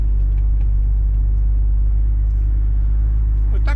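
Steady low road rumble from inside a car cruising calmly along a highway, constant and even throughout with a brief rise at the end.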